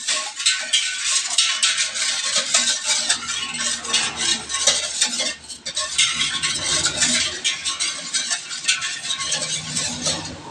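Bread dough ingredients for empanada (flour, milk, bread improver, vanilla and water) being stirred together in a bowl, a continuous busy scraping and clinking mix that stays steady and close with no voices.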